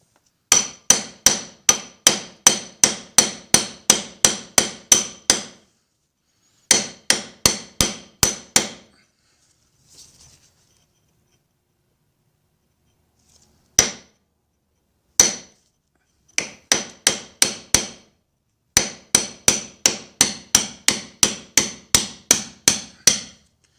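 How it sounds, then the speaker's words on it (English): Sharp metallic hammer blows from a framing hammer striking a steel pin punch in fast, even runs of a dozen or so, separated by brief pauses, loud and close, during teardown of an Evinrude XP 175 HP outboard's power trim/tilt unit. "use the old framing hammer to get it out"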